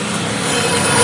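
Hand sanding of a stone with sandpaper during polishing, a dense, steady scratchy rasp that stays close and continuous and grows slightly louder.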